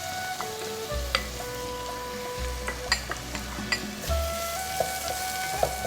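Chopped green onion hits hot oil in a pan for seaweed soup, giving a soft steady sizzle with occasional stirring clinks and scrapes of a utensil against the pan.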